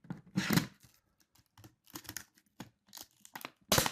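Quickkey tool cutting through material, giving scattered crunching, tearing bursts with a loud burst near the start and several shorter crinkly snips after, close by with quiet gaps between.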